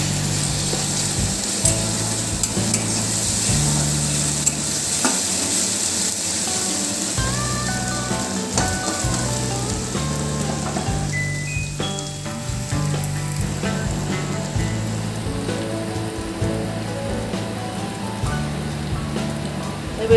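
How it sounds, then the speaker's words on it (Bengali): Onions frying in a pan for a spinach and moong lentil curry give a steady, close sizzle that carries on throughout, with faint stirring and a soft musical tune running underneath. "যখন বন্ধুরা পেঁয়াজটাকে এইভাবে ভাজতে হবে"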